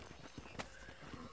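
Horses in the Red Dead Redemption video game clip-clop at a trot with a neigh rising through the hoofbeats, dense and fairly loud throughout.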